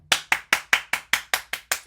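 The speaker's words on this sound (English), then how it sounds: "you deserve a round of applause." Hands clap nine times in a quick, steady rhythm, each clap sharp and close, with nothing else heard.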